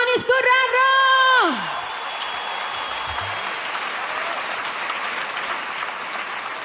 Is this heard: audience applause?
yes